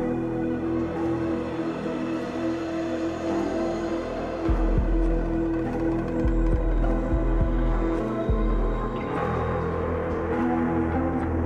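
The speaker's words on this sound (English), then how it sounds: "That deep kind of distortion sound is the Drone of Doom." A Rezo-Bass drone used for horror soundscape design rumbles as a deep, distorted, throbbing low tone, with heavy bass pulses swelling midway and a grinding mechanical texture above.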